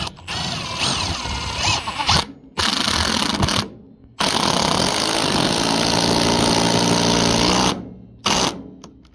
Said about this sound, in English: put this in the 1/4 inch impactor and do a one-handed drive into a 2x4 and a 4x4